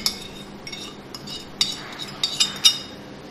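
Chicken is mixed with raw papaya, lemon juice, black pepper and salt for chicken malai boti, heard as a run of light metallic clinks and scrapes of a spoon against a bowl, irregular and close, with no talk.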